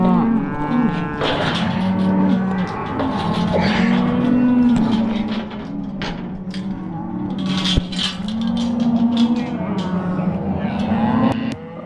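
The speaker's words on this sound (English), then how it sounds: "after we corral all the cows and calves, they're in one big pen" Cows and calves corralled together in one big ranch pen moo repeatedly, long overlapping bellows near and far, with some brief clatter and a voice speaking faintly underneath.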